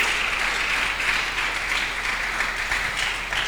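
A church congregation applauding, a steady dense wash of clapping hands that fills the space evenly throughout without pause.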